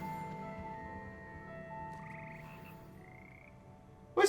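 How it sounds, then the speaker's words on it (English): Musical frogs croak in Hogwarts Legacy, their sustained tonal calls layered into a melodic chorus that rises in pitch midway, ending with a sudden louder burst at the close. "A bunch of musical frogs."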